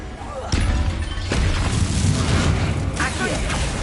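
A Bombarda spell detonates in Hogwarts Legacy, a sharp blast at the start followed by rumbling crashes and further booms in a busy, loud fight.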